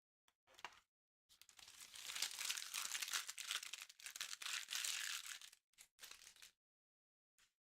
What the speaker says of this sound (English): peel them right off.